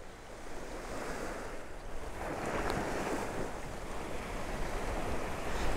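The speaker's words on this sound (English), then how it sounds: "the waves are really coming in" Ocean waves at high tide surge and wash continuously on a New England shore, a thick roaring wash with wind buffeting the microphone, growing slightly louder toward the end.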